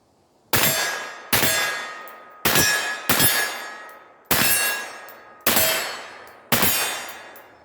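Seven loud, sharp shots from a Palmetto PX-9 9mm AR crack out at uneven intervals, each followed by a brief ringing decay, with no talking between them.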